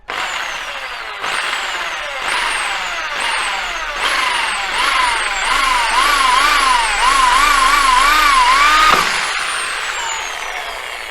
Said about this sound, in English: so now I am going to drill on the right hand side.